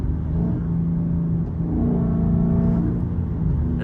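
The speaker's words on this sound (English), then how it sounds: "The exhaust is just so good." A car's exhaust rumbles steadily and loudly up close at a car meet, a deep continuous drone with slight swells in pitch and no voices over it.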